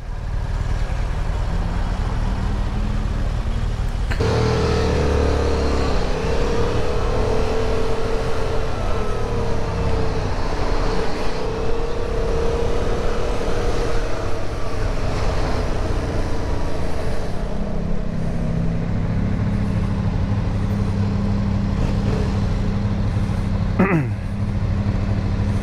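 A Ferrari F430 engine drones steadily for a long stretch, with a shift in pitch partway through and a rising rev near the end, loud and close.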